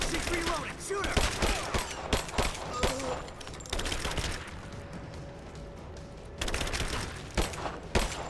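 Rapid bursts of gunfire from combat in the video game Rise of the Tomb Raider, loud and near, with sharp repeated shots and brief pauses, under occasional shouted speech.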